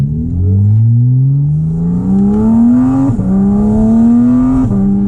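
A Porsche Cayman GT4 RS with ceramic brakes accelerates hard on a winding side road, its engine note climbing steadily through two gear changes, loud and close from inside the car.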